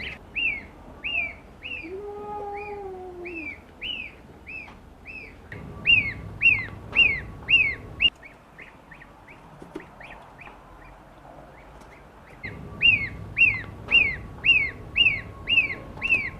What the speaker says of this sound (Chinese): 那些是我们家的小鸡